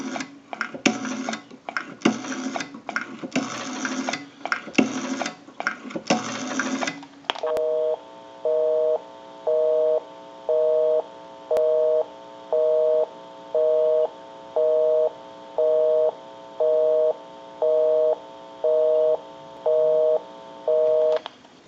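A wooden wall crank telephone converted for modern lines dials with a rapid run of tone bursts, then a busy signal beeps on and off in an even, repeating rhythm, clear and close.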